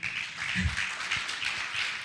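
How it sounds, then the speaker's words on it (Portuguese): An audience at a talk applauds for Sandra, a steady wash of clapping that holds at a moderate level for about two seconds with no voices over it. "eu vou pedir uma salva de palmas para a Sandra, que está ali me filmando"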